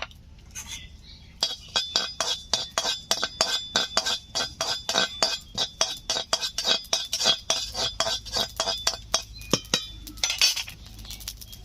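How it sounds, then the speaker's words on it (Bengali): Cumin seeds dry-roasting in a dry pan, stirred with a utensil in a fast, steady rhythm of scraping clicks and rattles lasting several seconds, close and fairly loud. "জিরে ভেজে নিচ্ছি শুকনো খোলায়"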